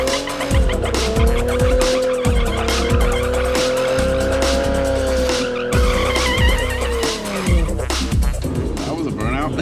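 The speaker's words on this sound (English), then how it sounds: "That was a burnout." A Toyota Supra turbo does a burnout, its tires squealing in a loud sustained wail over a revving engine, with repeated throttle pulses throughout and a voice briefly heard.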